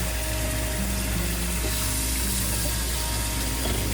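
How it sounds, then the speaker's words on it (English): Running water steadily filling a container for washing eggs, a continuous even rush with a low pump-like hum beneath, holding constant throughout. "I'm filling this with water"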